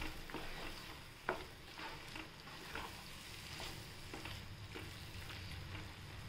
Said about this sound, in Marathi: चवळी टाकली, आता आपण छान परतून घेऊया।